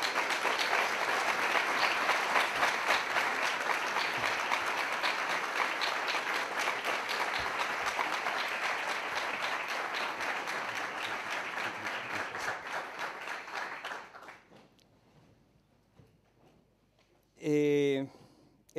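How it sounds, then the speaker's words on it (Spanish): Warm, dense applause from an audience at a 60th anniversary ceremony for SEO/BirdLife fills the room steadily for about fourteen seconds, then fades into quiet before a short burst of speech. "solicito un cariñoso aplauso, don Salvador Maluquer."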